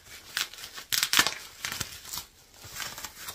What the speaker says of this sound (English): Pulling the tape off here.